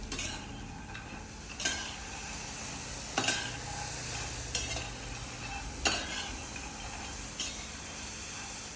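Food frying in oil in a pan over a low gas flame, a steady soft sizzle broken every second or two by the scrape and clink of stirring.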